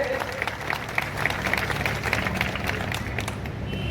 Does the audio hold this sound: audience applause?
yes